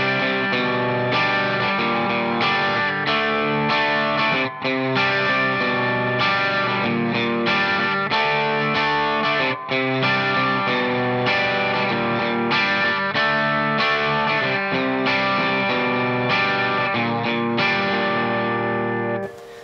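Distorted electric guitar with effects and a chorus-like shimmer plays a classic rock chord progression four times through, loud, dense and sustained, with rhythmic strumming and no talking.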